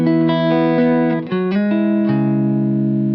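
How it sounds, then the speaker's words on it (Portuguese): An electric guitar through a Strymon Iridium amp pedal plays a few notes and chords with a light, dynamic crunch tone, clean sustained ringing with short attacks, up close and alone. "Aquele crunch bem legal, ainda assim leve e bastante dinâmico."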